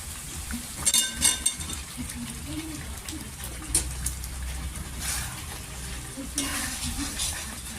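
Potatoes and peas go into a yogurt-based paneer curry masala cooking in a pan. A moderate, continuous frying hiss has louder bursts of sizzle and stirring scrapes spread through it.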